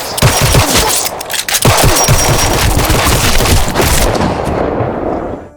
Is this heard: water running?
no